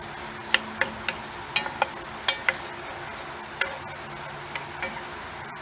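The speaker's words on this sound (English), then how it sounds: "Give it another quick little stir." A spoon scrapes sausage and vegetables around a cast iron skillet set near hot coals, with a dozen or so sharp clacks and scrapes coming at uneven intervals over a soft, constant sizzle.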